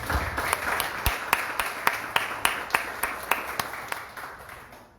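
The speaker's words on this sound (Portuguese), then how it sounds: "Pastor Alex, uma salva de palmas para Jesus." A church congregation claps in a fairly regular rhythm, distinct hand claps standing out over softer applause that gradually fades toward the end.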